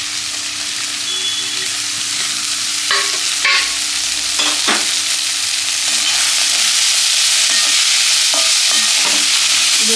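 Chopped cabbage, carrot and capsicum are stir-fried in a pan, giving a loud, continuous sizzle with scattered scraping and clinking as the vegetables are stirred, and no talking.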